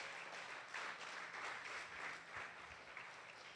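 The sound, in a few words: congregation applause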